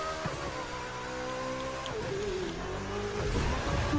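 Engine of a car in The Crew 2 racing game, a steady droning hum with stepped harmonic pitch changes as it revs and shifts, loud and continuous throughout.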